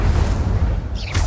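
Incendio fire spell cast in Hogwarts Legacy, a low rumbling burst that rolls steadily, then ends in a brighter whooshing flare, alone with no talk.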